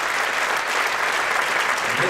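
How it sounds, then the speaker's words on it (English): Audience at a sixth grade school band concert applauds the band directors, a dense, steady burst of clapping filling the room throughout. "big to-do and big applause for our band directors"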